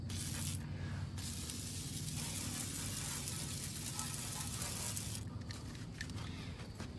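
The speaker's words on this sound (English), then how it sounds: "I'm gonna spray this down. Just keep it from rusting anymore." Oil-based rust inhibitor sprayed from a can onto parts of a 1963 Ford Galaxie, a steady, fairly loud hissing that runs almost unbroken, with short pauses between bursts.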